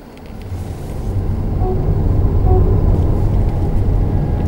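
A Lexus UX hybrid on a warm-up lap at the Shimoyama circuit gives a low, steady rumble of engine and road noise that swells over the first second and then holds, close and fairly loud.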